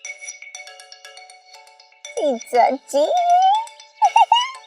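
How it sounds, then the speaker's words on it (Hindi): A phone rings with a looping electronic melody, faint at first, then someone speaks loudly over it in Hindi. "जरूरी फोन है।"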